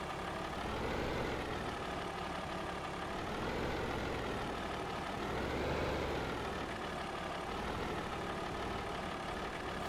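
A tractor engine idles steadily in the Farming Simulator video game, a low continuous rumble with slow gentle swells in pitch, moderately quiet and alone with no talk.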